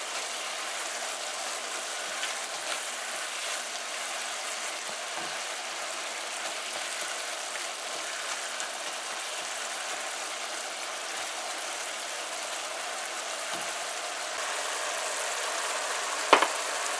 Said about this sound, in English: we're gonna give our pumpkin a stir now.